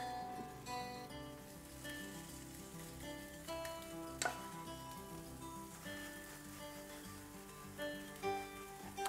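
Jack mackerel omelette layer frying in a pan, a faint steady crackling sizzle under soft background music, with scattered pops and one louder clack midway.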